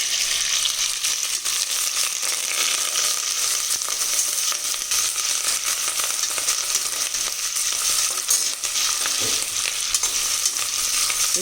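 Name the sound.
frying onion, curry leaves, ginger and green chillies in a pan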